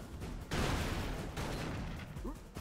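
Bursts of gunfire and explosions from the side-scrolling action video game Broforce, a dense rattling volley that starts abruptly and continues in loud waves with brief gaps, no talking over it.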